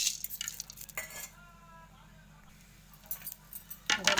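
Coriander seeds roasting in a pan are stirred with a utensil, giving scraping, rattling bursts with a quieter stretch in the middle, close and fairly soft, while a voice speaks faintly in the background.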